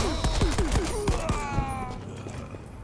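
Gunshots from a gun in the game The Legend of Tianding ring out as a fast volley of sharp reports, then give way to fading, ringing tones.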